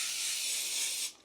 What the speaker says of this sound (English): I am going to spray it with a little bit of olive oil spray so that they don't stick to